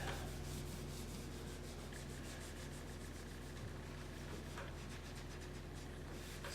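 Steady scrubbing of paint stripper off the ebony-finished cabinet of a Zenith 6S27 radio, a continuous close rubbing and sanding-like rasp under a constant low hum, with no talk.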